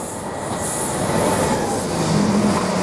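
A loud train rolls through Shenfield railway station close by, a heavy continuous rumble with metallic wheel squeals rising toward the end.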